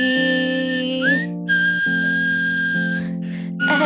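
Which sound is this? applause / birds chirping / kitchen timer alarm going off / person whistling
person whistling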